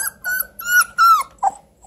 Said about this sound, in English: So this is male puppy, Bluetick puppy number four.